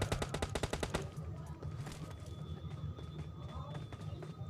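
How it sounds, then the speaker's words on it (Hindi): Gunfire in the mobile battle-royale game PUBG Mobile Lite. A rapid burst of automatic shots opens, then gives way to fainter scattered in-game noise. "बाहर से मतलब फायर का साउंड आता है"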